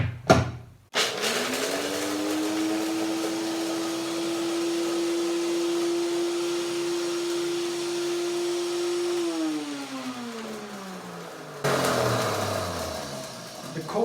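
Blender motor grinding cashews and hazelnuts into a coarse meal, a steady high whine running for about eight seconds before winding down, with a brief burst of motor noise near the start and again at the end; no talk.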